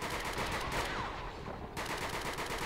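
Overwatch gunfire in XCOM 2 rattles out as a close, dense burst of automatic shots that stays loud and steady for a couple of seconds, with no talking.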